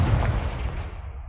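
A fire-blasting Confringo spell from a Harry Potter video game lands as a loud, booming explosion that hits hard at the start and rolls off into a rumbling decay over about a second, with no voices.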